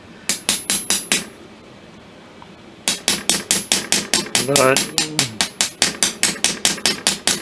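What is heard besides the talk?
hammering a pin for a flintlock ram rod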